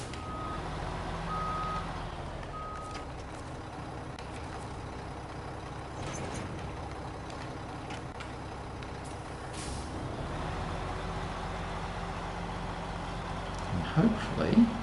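A heavy truck in the SnowRunner game maneuvers to hook up a log trailer, with a steady engine rumble, repeated reversing beeps early on, hisses of air brakes and a few clanks near the end.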